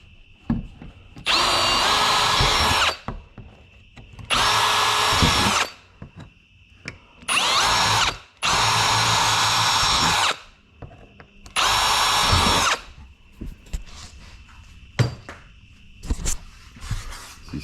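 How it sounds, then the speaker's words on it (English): Loud bursts from a power drill boring out the corners of a cutout for a heater install on a Polaris General XP 4 1000, five separate runs of one to two seconds, with short pauses and small clicks between them. "They drill the 4 corners."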